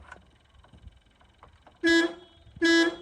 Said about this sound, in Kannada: ಹಾರನ್ ಬರುತ್ತೆ